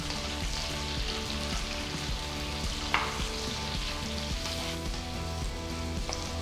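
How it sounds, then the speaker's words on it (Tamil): Steady, dense sizzling of thinly sliced onions frying in ghee in a pan, with faint stirring scrapes and one brief sharper clink partway through, no voices. "நீல வாக்குல மெலிசா நறுக்கின 2 பெரிய வெங்காயம் சேர்த்து நல்லா வதக்குங்க."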